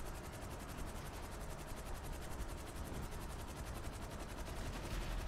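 A helicopter in the video game GTA V, whose rotor makes a loud, rapid, steady chopping thrum that runs the whole time with no talking over it.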